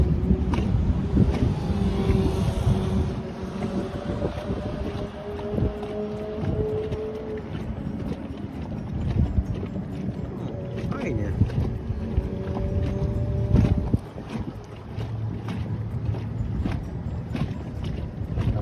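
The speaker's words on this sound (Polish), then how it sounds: "motorówka płynie." A motorboat's engine drones steadily nearby as it passes along a river by the Pionierów bridge, heard from a pontoon amid gusty wind noise on the microphone.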